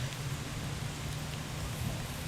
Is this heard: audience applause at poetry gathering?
no